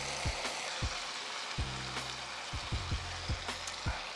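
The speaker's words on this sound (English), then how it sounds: "we're gonna go ahead and deglaze the skillet with a little red wine" Red wine hits a hot skillet of steak bites, giving a soft steady sizzle with scattered low knocks and taps from stirring.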